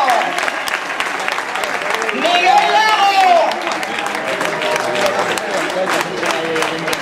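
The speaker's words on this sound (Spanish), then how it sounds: "vamos, un aplauso" Stadium crowd applauds and cheers as Celta legends and football stars are introduced one by one, a steady broad wash of clapping with an announcer's amplified voice talking over it throughout.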